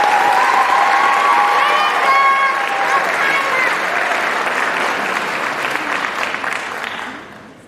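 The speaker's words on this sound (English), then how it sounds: "Please give these students a very deserving round of applause." An audience at a community college graduation ceremony applauds the graduating students, a loud, dense wash of clapping with some cheering and voices mixed in, holding steady before gradually fading out.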